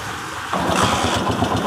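An engine with an ignition fault, which runs with the key off and will not shut down, cranks and catches about halfway through, then settles into a steady, close idle.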